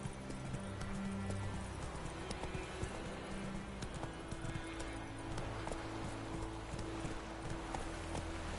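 Roach the horse gallops in The Witcher 3, a steady rapid clip-clop of hooves over a dense game soundscape, continuous and fairly loud throughout.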